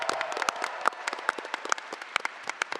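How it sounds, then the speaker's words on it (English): An audience at a PAX debate panel claps in scattered, uneven bursts, a thinning round of applause for the winning team with individual sharp claps standing out. "And please keep your applause going for both our teams, Steph, Alex, Jordan, and of course Nick"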